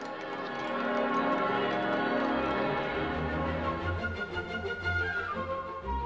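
Bells of St. Stephen's Cathedral in Vienna, the largest weighing over 20 tonnes, a dense ringing peal of several overlapping bells with long sustained hum and shimmering overtones, steady and loud throughout.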